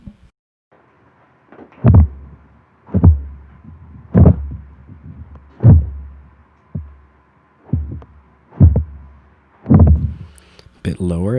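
Pitched-down movement effect for Middle-earth wolves in the Caradhras snow, a series of heavy, low thudding footfall-like impacts repeating roughly every second over a faint hum, with a brief brighter burst at the end.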